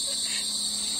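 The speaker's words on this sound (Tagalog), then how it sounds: "Nangingay ng kuliglig" Crickets chirping in a steady, shrill, continuous trill, fairly close and alone, with no voices over it.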